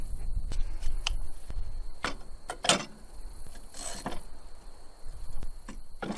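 A 9/16 deep socket wrench works on the deck of a Craftsman LT1000 lawn mower, giving sparse metallic clicks and ratcheting ticks over a low background rumble, close with no voices.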